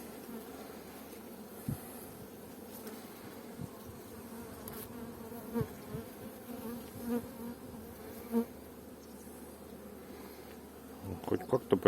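Close, continuous buzzing rises from a crowded honeybee hive opened in April, punctuated by scattered soft knocks and clicks of frame handling that cluster toward the end.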